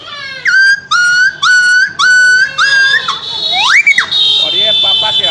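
A human voice imitates a dog yelping after being struck by a stone, giving several rising-and-falling whistly yelps in quick succession and then a longer sliding whine, loud and close.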